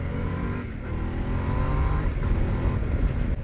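A 2021 Yamaha Tenere 700 motorcycle accelerating on a freeway, its engine a loud, steady, close drone that builds slightly with the throttle.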